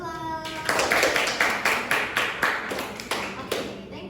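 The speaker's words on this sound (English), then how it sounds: "Okay, give applause." A small class of children claps after a group presentation, several seconds of close, rhythmic, loud clapping in even bursts, following a brief spoken line.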